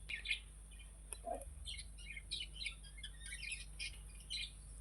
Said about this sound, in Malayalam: പക്ഷിക്ക് തീറ്റ കൊടുക്കുവാണേ